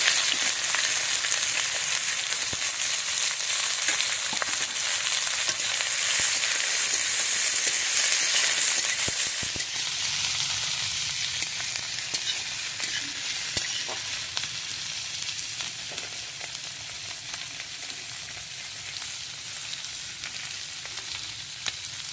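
Chopped onion fries in hot oil in a pan, giving a loud, continuous crackling sizzle that gradually settles into a softer, steadier hiss as it cooks.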